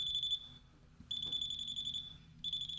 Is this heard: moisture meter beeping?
yes